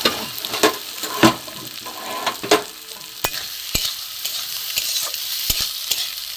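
Grated eggs being stirred through a cooked-down spice masala in a pan, with repeated scraping strokes of a spoon over a soft, steady sizzle, close and fairly loud with no talking.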